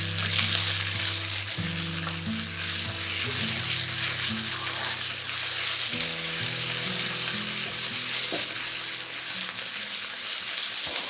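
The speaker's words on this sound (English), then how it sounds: "I'm gonna add these oyster mushrooms because it takes a little bit more time to be fried and cooked" Oyster mushrooms fry in a hot pan with a loud, steady, close sizzle lasting throughout, while a tonal melody plays in the background.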